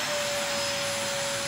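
A Riccar Tandem Air R40 vacuum cleaner runs steadily at close range, a loud, continuous broadband whoosh of suction with a thin, constant high motor whine and no speech.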